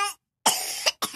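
A baby coughs in three short, sharp bursts close to the microphone, the first brief, then a longer harsh cough and a final quick one, separated by silence.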